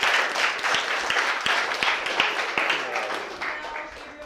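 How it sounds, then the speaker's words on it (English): Clapping from a small audience at a startup pitch event, scattered distinct hand claps over a few seconds that thin out toward the end, with voices talking faintly underneath. "After we clap for David."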